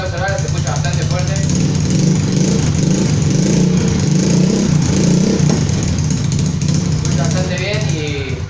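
A motorcycle engine and exhaust idle and rev inside a walled room, a loud steady rumble that fills the space with some variation in pitch throughout, reverberant and close.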